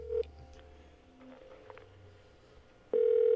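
A faint phone line hum with soft background noise, then a steady electronic ringing tone begins near the end, loud and continuous.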